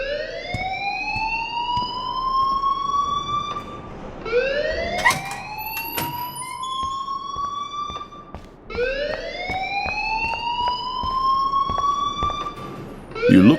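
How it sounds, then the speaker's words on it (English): A wailing alarm sounds inside the video game Life Is Strange, rising sweeps repeating in three long cycles, loud and close, with sharp clicks and thuds between them and no voices. "please turn off that alarm since that's your job"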